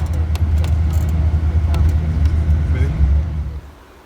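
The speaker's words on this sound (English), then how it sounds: "And this is an early morning bus." An early morning bus drives along a road, its steady low engine rumble and road noise continuous and close, with faint rattles inside the cabin and quiet talk beneath before the sound fades at the end.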